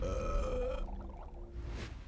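A video game trailer character lets out a short, deep, guttural burp that fades quickly. A brief faint higher sound follows after it.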